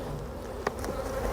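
Honeybees buzz in a dense, steady drone around an opened beehive, close and continuous with a faint tap partway through.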